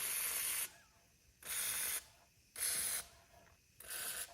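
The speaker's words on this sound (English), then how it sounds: "For now, I'm just gonna give a couple things just a squirt of WD-40." WD-40 spray lubricant squirted on parts of a Wheel Horse Raider 12 garden tractor under restoration: four close, loud hissing bursts, each about half a second, separated by brief pauses, with no talking.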